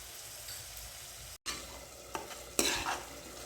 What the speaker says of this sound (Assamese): কলাখাৰ দিয়াৰ পাছত মই অলপ সময় ভাজিলোঁ দুৰুণ শাকখিনি